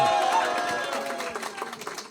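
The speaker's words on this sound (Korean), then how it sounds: "다시 한번 함성의 박수" A crowd at a political rally announcing a presidential run cheers and claps, loud at first and then fading into scattered applause and voices.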